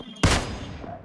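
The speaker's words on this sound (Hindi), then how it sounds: "अरे भाई गोलियां चल गई फिर से" A single sharp gunshot bursts out in the mobile battle-royale game PUBG Mobile, loud and close, then decays into a reverberant tail.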